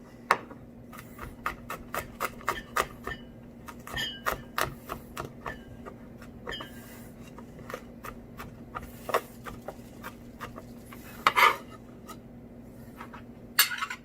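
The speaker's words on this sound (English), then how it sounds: "So just give it a little chop." A knife chops garlic cloves on a cutting board while pork with tomato and green beans is being prepared, producing a run of sharp, close taps in quick irregular bursts, with a low steady hum underneath.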